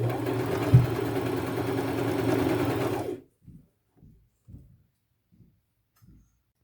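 A sewing machine stitches a tight zigzag on an upcycled t-shirt, a loud, close buzzing run of about three seconds that stops abruptly, followed by a few faint, spaced clicks and taps.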